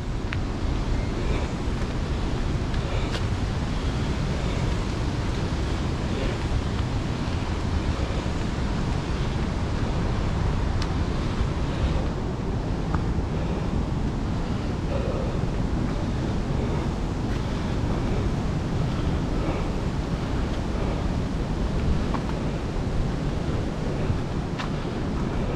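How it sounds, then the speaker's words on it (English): Ocean waves breaking at Burleigh Heads, Queensland, heard as a constant loud wash of surf blended with heavy wind buffeting the microphone, with no clear pauses between breakers. "You can hear the waves now."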